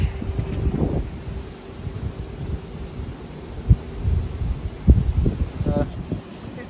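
Gusty wind buffets the microphone outdoors in the Arkansas back country near an abandoned bridge, with low rumbling surges and occasional thumps and a faint steady insect-like hum.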